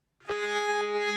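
A thick, distorted sustained sample enters after a short silence, doubled by the same sample pitched an octave lower, holding steady and loud.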